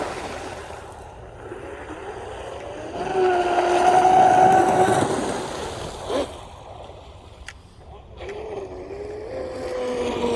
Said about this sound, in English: Boat runs good on 6S.